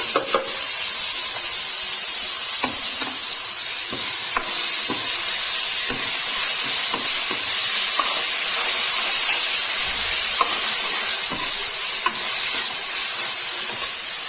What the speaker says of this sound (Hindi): ये तड़का मेरा हो गया है और अब जो मैंने टमाटर बारीक किए हैं वो डाल देती हूँ।